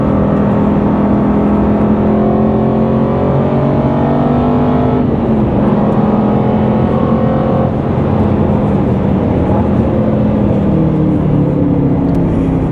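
Aston Martin Vantage race car from the BTCC paddock pulls hard on track, its engine note rising and falling steadily through loud, continuous in-car drive with no talking.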